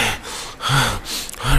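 A storyteller imitates a doctor gasping for breath after climbing stairs: three sharp, loud, close panting inhalations spaced about half a second apart, voiced alone.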